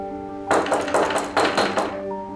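Someone raps firmly on a door in two quick bursts of heavy knocks, loud and close over a faint steady background tone in a dramatic indoor scene.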